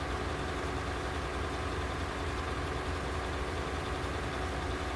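A John Deere tractor engine idles in Farming Simulator, a steady mid-to-low engine drone held at one even level throughout with no pauses and no voices.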